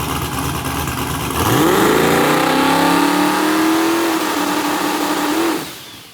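A boosted stock-block LS engine in a car strapped to a hub dyno revs hard, its pitch climbing steadily as it pulls loud and close for several seconds before cutting off abruptly.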